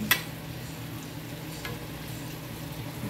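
Rice-A-Roni with boneless chicken tenders frying in a pan gives a soft, steady sizzle, with a sharp utensil scrape at the start as it is stirred and a faint tap midway.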